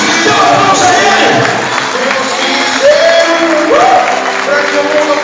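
Church congregation applause and cheering swell with scattered whoops, a dense steady clapping wash filling the space, with loud voices rising over it.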